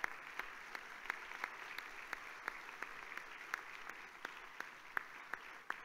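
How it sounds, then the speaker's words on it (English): Steady applause from a large crowd in a conference hall at a forum's closing session, with scattered sharper claps popping out, continuous and sustained, heard from within the room. "and we give them a big applause."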